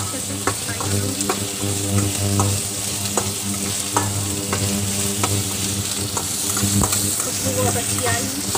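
Chopped onions and fine green chillies frying in a pan for Maggi chowmein, a loud steady sizzle with regular spatula stirring knocks and a low background hum throughout.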